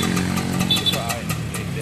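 A 1997 Kawasaki motorcycle engine runs steadily at close range, a low rumbling idle under ongoing talk.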